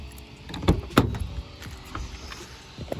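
An Acura Integra car door opens with a couple of sharp clunks close by, followed by softer handling rattles and light knocks.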